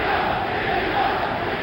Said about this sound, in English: Crowd chanting, Jimmy Young